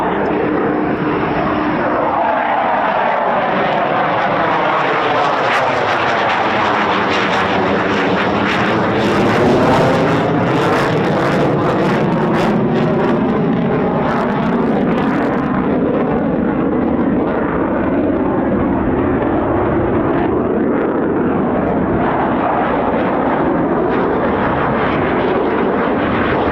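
A US Air Force fighter jet of the 48th Fighter Wing, F-15 or F-35, passes over RAF Lakenheath, a loud roaring whine that rises, swells overhead and sweeps in pitch as it goes by, with talk over it.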